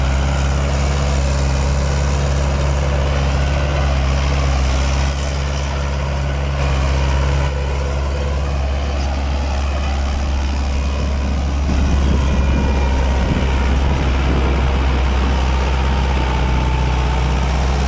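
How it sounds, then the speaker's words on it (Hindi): A heavy tractor engine strains under a heavy load, droning loudly and continuously, its low rumble steady, with a rougher labouring tone building partway through. "ट्रैक्टर की आवाज़ से पता लग रहा होगा आपको"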